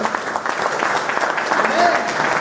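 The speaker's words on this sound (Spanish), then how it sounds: "Dale un fuerte aplauso al Señor." Church congregation clapping loudly for the Lord, a steady rush of many hands with a voice calling out over it.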